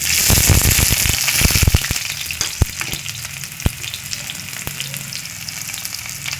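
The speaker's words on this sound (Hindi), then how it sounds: "आज हम बना रहे हैं गोभी आलू अपने लिए और डालेंगे मेथी। अब डालेंगे प्याज।" Cauliflower and potato frying with fenugreek as onions go into the pan, giving loud, close hissing sizzle with a burst of clattery stirring at first that settles into a steady crackle.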